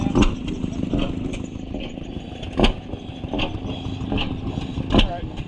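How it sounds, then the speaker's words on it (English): A Hercules take-apart engine runs at an antique machinery show, with irregular low thumps and knocks at a moderate distance under steady background murmur and faint voices. "Hercules take-apart engine."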